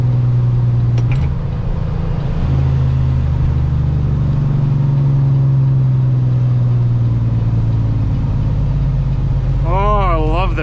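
A truck engine drones loudly and steadily with a deep exhaust-pipe rumble throughout, shifting slightly in pitch; a brief rising whine appears near the end. Snowy day.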